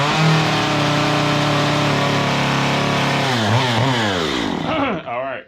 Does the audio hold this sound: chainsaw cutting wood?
yes